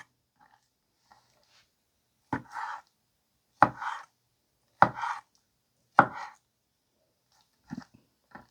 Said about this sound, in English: now at least we have this small little block where we can just kind of cube it very easily